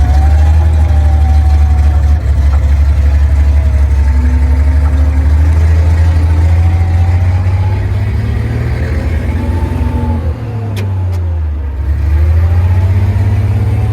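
A Dingo mini loader engine runs loud and close, holding a steady drone and then rising and dipping in pitch as it shifts through the gears, with no talking.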